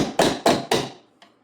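Screwdriver struck like a punch to drive an old rivet out of a Ski-Doo snowmobile hood latch: three sharp metallic knocks at an even pace, then a fainter fourth tap, close and alone.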